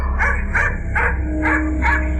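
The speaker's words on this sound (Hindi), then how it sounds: "कुत्ते की आवाज मेरे पीछे से आ रही थी" A dog barks as a sound effect in a Hindi horror story, five sharp yipping barks in a steady rhythm about half a second apart, loud and close over a low droning background.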